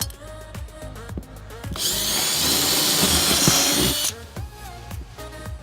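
A power drill whines loudly for a couple of seconds, boring steadily into a sailboat's topside, with clattering handling noises before and after.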